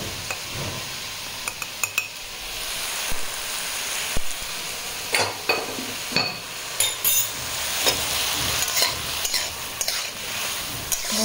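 Vegetables, including cauliflower, are stir-fried with salt in a pan, with a steady sizzle under repeated scraping stirs and sharp clinks of the utensil against the pan, close up and without talk.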